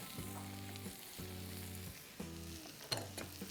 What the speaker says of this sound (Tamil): பச்சை மிளகாவை போட்டு இது மாதிரி ஒரு 2 நிமிஷம் வதக்கி